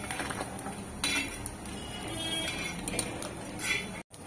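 Roasted grated coconut is scraped and lifted out of a metal pan, with close, continuous scraping and clinking of a spoon against the pan, ending in a brief silence.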